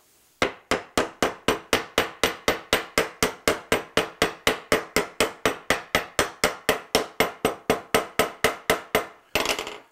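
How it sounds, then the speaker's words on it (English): A rapid, steady series of about forty sharp hammer blows on a wooden dovetail joint, evenly spaced and close, ending with a brief scuffing sound. "we'll just hammer the two together, right like this"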